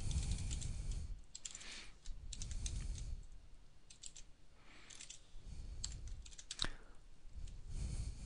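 Typing Java code on a computer keyboard, close bursts of rapid key clicks separated by short pauses, one louder clack standing out near the end.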